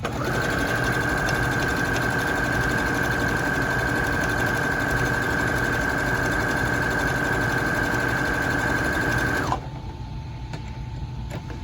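A sewing machine stitches quilted tote fabric in a steady, fast, close-up whirring hum with a high motor whine that holds constant for about nine seconds before cutting off, leaving quiet room tone.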